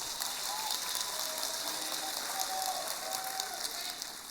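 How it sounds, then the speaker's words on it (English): An audience at a youth event applauds Honorable Elias Mubanga, Minister of Small and Medium Enterprise Development, with even, continuous clapping heard at moderate distance and slightly muffled. "Let us give him a round of applause."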